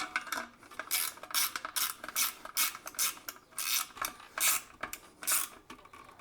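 Nuts being tightened by hand while assembling a Swagman roof rack, a close series of rhythmic metallic scrapes and rasping turns repeating about every half second, with no talking.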